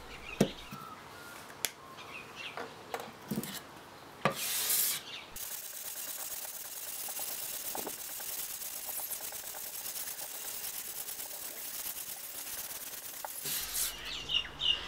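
A cast iron wood plane base is rubbed back and forth on sandpaper to flatten it, with soft scraping strokes at first and then a steady, quiet, continuous rasp.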